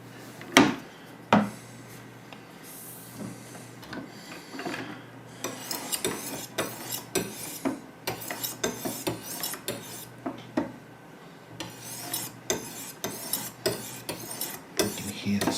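Knife blade drawn across the stones of a Wicked Edge guided sharpener, giving repeated short rasping scratches in an uneven rhythm, fairly close but not loud, with a faint steady hum behind.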